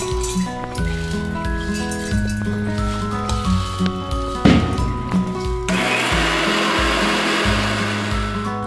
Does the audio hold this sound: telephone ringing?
no